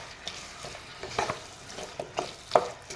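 Chicken curry meat with turmeric, cloves, cardamom, cinnamon, ginger and garlic paste sizzling in a pan, stirred with a spoon in a few scraping strokes over a low steady fry, close and fairly quiet.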